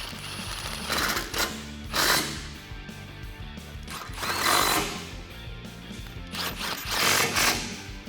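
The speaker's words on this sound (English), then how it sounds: "I'm going to grab my 15 socket and tighten them down" A 15 mm socket on a ratchet tightens bolts on a winch front bumper of a 2016-2018 Chevrolet Silverado 1500, giving close bursts of rapid mechanical clicking with short pauses between them.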